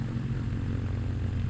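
RC model airplane engine throttled way back for a stall demonstration, a steady low propeller drone holding close and even throughout with no talk over it.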